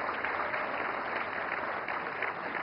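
Steady, dense applause from a large audience at a national film award ceremony, continuous and even throughout with no distinct voices.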